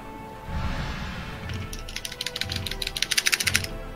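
Rapid clatter of keys being pressed on a computer keyboard during a Monster Hunter: World session, starting sparse and building into a dense burst of clicks over a steady background hum.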